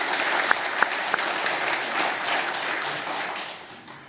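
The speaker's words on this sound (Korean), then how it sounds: "박수 보내주시기 바랍니다." A church congregation applauds at an Easter Sunday worship service: a dense, steady wash of clapping with a few sharp louder claps early on, gradually thinning and fading toward the end.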